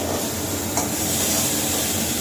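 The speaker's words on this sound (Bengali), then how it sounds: "মাছ ভাজছি" Fish pieces shallow-fried tandoori-style in a little oil in a pan give a steady, even sizzle with a faint stir partway through, close and continuous, with no voices.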